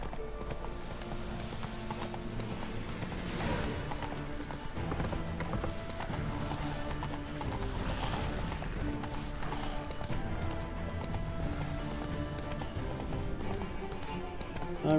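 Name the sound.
horse galloping in a video game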